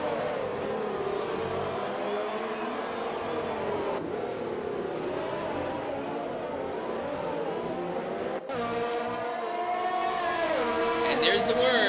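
Race cars in an F1-style racing sim round the Spain circuit with a continuous engine drone that shifts pitch as one car goes around the outside of another, steady and fairly loud beneath constant commentator talk.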